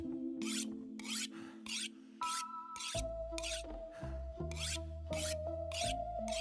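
A blade is sharpened with about nine evenly spaced, rasping strokes, each short and close, over steady musical tones in the background.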